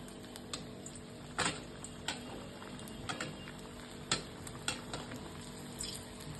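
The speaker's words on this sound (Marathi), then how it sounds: "थोडंसं त्याला साईडने तळून घेतेय" Apple modak frying in oil, shallow-fried on one side to a light golden brown, with a steady faint sizzle broken by sharp crackles and pops, no talking.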